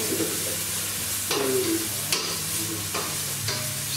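Steady sizzling of mushrooms frying in a pan, a continuous crackling hiss with occasional louder pops and stirring scrapes, close and unbroken throughout.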